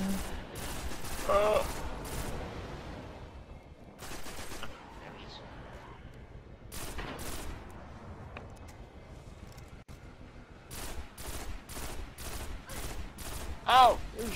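Loud bursts of automatic gunfire in Destiny come in several volleys separated by quieter gaps, close and sharp, with players talking between the shots.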